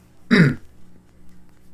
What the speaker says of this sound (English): I'm coughing my head off